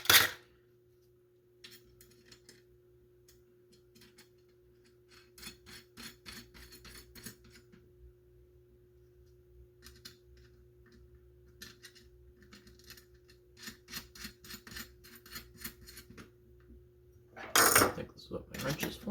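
Small metal hex nuts and acorn nuts are threaded onto bolts during a Nerf blaster build. Scattered, close, faint scraping and clicking bursts repeat over a low hum, with a louder metallic clatter at the start and near the end.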